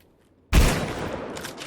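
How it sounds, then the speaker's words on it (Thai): A sudden loud burst of gunfire in the video game Eternal Evil erupts after a brief silence, followed by a rattling, echoing tail. "เสียงปืนดังมาก"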